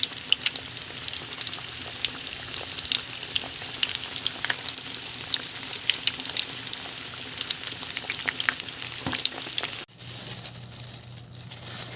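Pork belly for lechon kawali sizzles and crackles steadily in hot oil, with dense popping and spitting throughout and a sharp burst of louder frying near the end.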